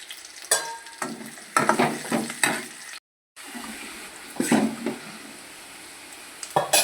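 Onions fry in oil with curry leaves and asafoetida for a chayote moong dal tempering, loud close sizzling bursts and stirring scrapes that come and go, with a brief full silence midway.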